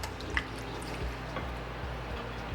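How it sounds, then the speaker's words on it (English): Half a can of water goes into a skillet of diced tomatoes with green beans, celery and onions, a steady close liquid wash dotted with a few drips, with no voices. "I'm also putting a 1/2 a can of water into my skillet."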